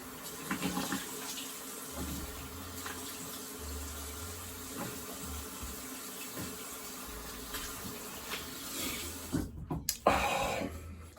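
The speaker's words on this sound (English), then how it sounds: "I'm gonna do a quick rinse." Water runs from a bathroom tap for a quick rinse after shaving, a steady close wash of flow lasting throughout with a few louder splashes and a gurgling surge near the end.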